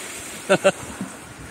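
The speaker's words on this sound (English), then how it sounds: "Another milky creek coming down on the backside of Mount Adams, a little runoff." A milky glacial runoff creek tumbles down the backside of Mount Adams in the wilderness, a steady close rushing hiss of flowing water, with two brief vocal sounds near the start.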